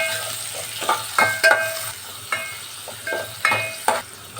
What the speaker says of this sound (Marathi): हे सर्व आपल्याला लो फ्लेमवर परतून घ्यायचं आहे कांदा इथे मस्त परतून झालेला आहे